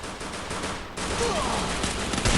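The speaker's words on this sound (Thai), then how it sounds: "เดี๋ยวผมยิงก่อนนะครับ" Gunfire in the battle-royale shooter Free Fire, heard as rapid bursts of shots rattling through dense game noise over a couple of seconds.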